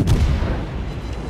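Deep booming naval cannon fire in World of Warships, with heavy low rumble, a loud burst at the start fading into a sustained roar of battle noise.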